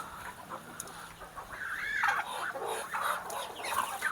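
Free-range village hens clucking inside a galvanized battery cage, with several nearby birds giving repeated close, moderately loud clucks and squawks over a quiet background.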